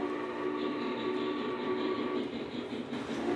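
A model train runs on a club railroad layout, producing a steady mechanical whir and rattle of wheels on track, heard close and continuous with no talking.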